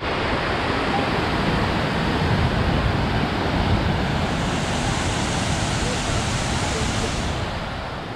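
Water rushes over Kalingarayan Anicut dam near Erode in a loud, continuous roaring wash that stays constant and close, easing slightly at the very end.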